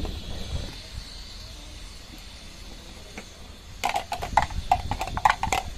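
A gas stove is lit under a pan with two tablespoons of oil: a soft steady hiss, then a run of sharp, rapid clicks close by, each with a faint ringing tone.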